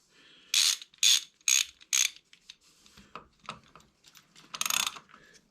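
Strap wrench loosening the oil filter on a Honda CBR600 F4 motorcycle: four loud, evenly spaced ratcheting clicks, then softer scattered metallic clicks and one more loud ratchet burst near the end.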